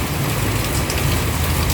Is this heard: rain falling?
yes